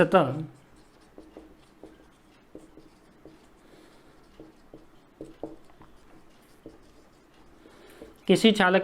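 Chalk or marker tapping and scratching out a point on a board during a physics lesson on equipotential surfaces, a run of soft, irregular strokes and taps that starts and ends under a voice.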